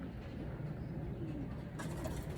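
A pigeon coos softly in a low, rolling rhythm, repeated a few times close by against faint background noise.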